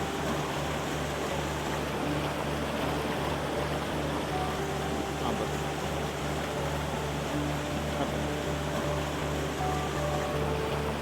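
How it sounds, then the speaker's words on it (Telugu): Steady rushing water of a shallow river in Coorg, a continuous broadband roar at constant loudness with no talk, close and unbroken throughout. "ఈ మార్గాన నదీ ప్రవాహపు జోరు వింటూ"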